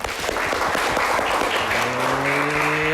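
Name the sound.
applause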